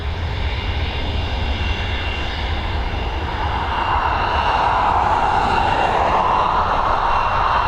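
An Emirates Boeing 777 landing at Dublin Airport, a continuous loud jet roar with low rumble, a rising whine building in the second half as the aircraft draws nearer.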